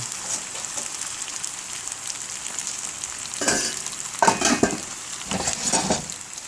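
Food frying in oil gives a steady, close sizzle, broken near the end by a few louder scraping stirs in the pan.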